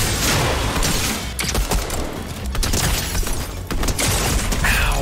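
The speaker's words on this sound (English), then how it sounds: "Really took his time to line up that shotgun shot, huh?" A shotgun fired by a computer-controlled character in Fortnite cracks out over a dense wall of loud in-game noise. Several sharp blasts and crashes land at uneven intervals.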